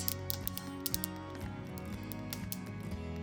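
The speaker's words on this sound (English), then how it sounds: "you wanna toast it or heat it until it sounds like this" Quinoa toasting in a dry pan with no oil, faint close crackling and light popping ticks scattered over a soft steady background hum.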